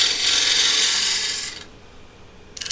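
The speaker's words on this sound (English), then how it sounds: "I'm going to switch now to my big old fat spindle gouge" A big spindle gouge cuts a bead into green wood spinning on a lathe, giving a loud, steady shaving hiss for about a second and a half before stopping, then a brief scrape returns at the end.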